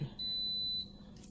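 A continuity tester checking a blower motor resistor fuse in a Skoda Yeti gives one steady, high, pure electronic beep lasting about half a second, faint and alone against a low background hum.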